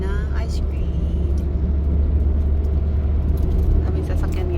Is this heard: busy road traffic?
yes